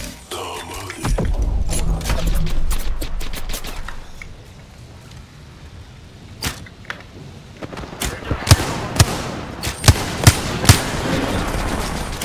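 Weapon fire in the video game Apex Legends: bursts of sharp shots and impacts, a dense volley early, then a quieter stretch and a series of distinct cracks near the end.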